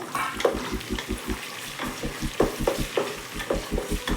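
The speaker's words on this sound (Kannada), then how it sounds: "ಬಟಾಣಿ ಸ್ವಲ್ಪ ಹಸಿ ವಾಸನೆ ಹೋಗೋ ತನಕ ಫ್ರೈ ಮಾಡಿಕೊಂಡ್ರೆ ಸಾಕು" Soaked dried peas fry and get stirred in a pan, a steady soft sizzle broken by a regular beat of scraping and clinking spoon strokes, close by, with no talking.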